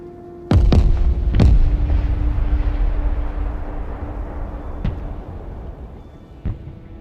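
Rocket artillery barrages and heavy explosions in the military strategy game Broken Arrow: a few sharp, loud booms up front, then a long rumbling roar of impacts with two more distant thuds near the end.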